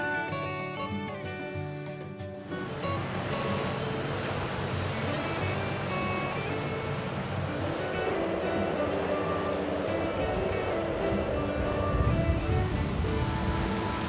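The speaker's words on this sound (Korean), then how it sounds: "거친 파도를 가르며 힘차게 나아가는 이사부호" The research ship Isabu, a large ocean exploration vessel, cuts through rough waves in the northwest Pacific: a deep, steady surge of sea and hull noise rising after an opening stretch of music, with music continuing underneath.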